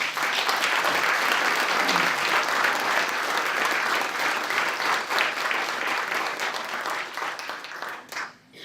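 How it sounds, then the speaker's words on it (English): An audience at a testimony event claps steadily, thick continuous applause holding at full strength for most of the stretch before thinning out and dropping away at the close. "Can we give him one more round of applause, please?"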